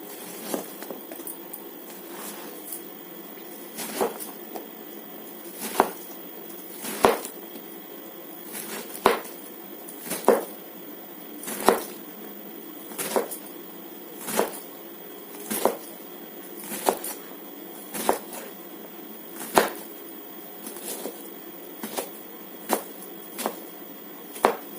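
A knife cuts through ridge gourd on a board in steady, evenly spaced chops, each a crisp close thunk repeating about once a second over a faint quiet background, with no talk.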